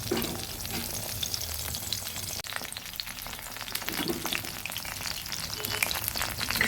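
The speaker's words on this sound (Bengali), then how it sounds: "বকফুলের বড়া আমি দিয়ে দিচ্ছি এগুলো প্রায় ফুলে উঠেছে এখনো হয়নি" Bakful (hummingbird tree flower) fritters frying in hot oil, giving a steady, dense sizzle that runs unbroken and fairly loud throughout, with no voices over it.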